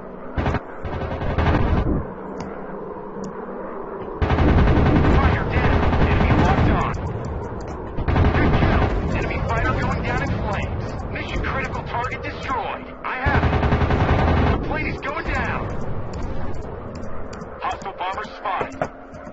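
Aircraft machine guns firing in the WW2 dogfight video game Warplanes WW2 Dogfight, several long loud bursts broken by gaps, mixed with engine drone while a player talks over parts of it.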